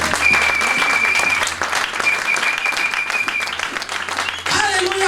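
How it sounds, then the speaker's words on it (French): Church congregation applauding and acclaiming the Lord, loud continuous clapping with shouting voices over it, a brief dip near the end before the applause surges back. "Acclame le Seigneur."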